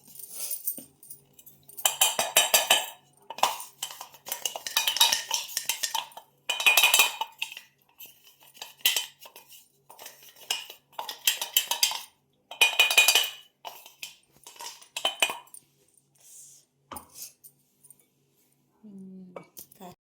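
A metal pan clinks and clatters as it is handled and set onto a gas stove in a home kitchen making til khava barfi, sharp repeated metallic knocks with pauses between, while someone talks.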